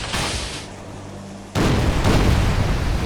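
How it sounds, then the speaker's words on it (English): A torpedo launch and its blast in the naval strategy game Order of Battle, a broad roar that steps up into a louder, sustained rumbling explosion. "and we'll fire another torpedo"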